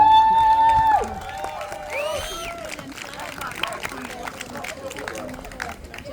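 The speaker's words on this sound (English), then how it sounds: "Another round of applause for Cobra, please." Crowd applause and cheering for a speaker at a Huntsville rally, opening with a sustained feedback-like tone, then a broad wash of clapping, whoops and crowd babble at moderate distance.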